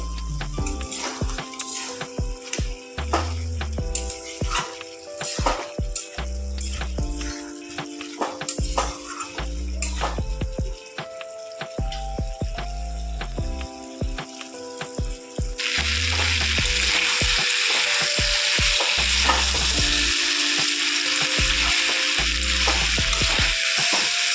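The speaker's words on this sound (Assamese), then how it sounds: "আৰু পিঁয়াজটো খুন্দি দিব, সেইখিনি মাজে মাজে লৰাই থাকিব" Crushed onion frying in a pan for a home-style chicken curry, stirred now and then: a sizzle runs under music at first, then a loud, steady close-up hiss takes over for the last several seconds.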